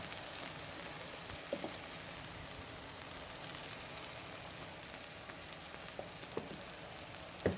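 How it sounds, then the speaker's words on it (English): Chopped Trinity vegetables sizzle in a butter and flour roux in a pan, a steady soft frying hiss with a few faint stirring clinks, no talking. "Now you saute the Trinity in the butter flour mixture."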